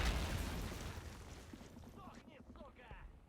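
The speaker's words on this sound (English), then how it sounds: "Big explosion on this side." A big explosion erupts in a WW2 fort siege battle in a video game, Axis against Allies, a loud broadband blast at the start that slowly decays into rumble, with faint game sounds and a voice-like tone near the end.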